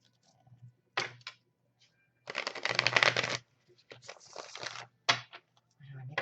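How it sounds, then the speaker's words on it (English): Tarot cards being shuffled up close in several quick riffling bursts, one long loud flurry in the middle, separated by brief pauses. "All right, one more beautiful shuffle."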